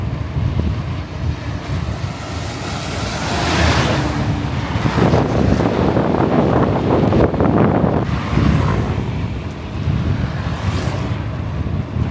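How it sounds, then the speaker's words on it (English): Surf rolling onto an ocean shore on the island of Java, Indonesia, a steady broadband wash that swells into louder surges midway, with heavy wind buffeting the microphone throughout. "I'm headed to the ocean, guys."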